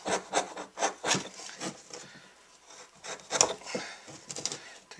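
A sharp axe shaves splinters off a birch wood mallet head in a series of short scraping, rasping strokes, close and moderately loud with uneven rhythm.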